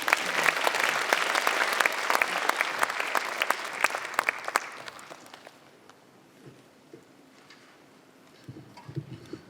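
Audience applause at a university graduation ceremony as a speaker is welcomed to the podium, steady and dense for about five seconds, then thinning to scattered claps and quiet room noise.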